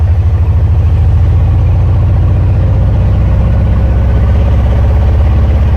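A Volkswagen Safari buggy engine runs loudly and close by, a constant heavy low rumble with a rapid pulsing throb throughout and no voices.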